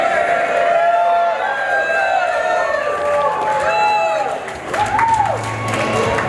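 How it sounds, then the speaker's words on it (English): Wedding guests cheer and shout after a toast to the couple, a loud crowd roar with whoops and scattered clapping mixed in, sustained across the moment with a brief dip near the end. "One more time, guys. Let's get a round of applause. Make it loud."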